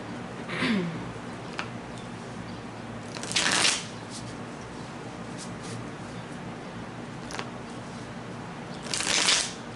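Three separate riffles of a deck of tarot cards being shuffled, each a short papery burst, with faint taps in the quiet between them.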